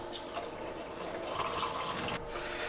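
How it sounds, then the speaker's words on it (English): Water is poured out of a pot holding spring onion roots, a quiet continuous splashing trickle with no talk. "Switching out the water for the spring onion roots I let grow in a pot"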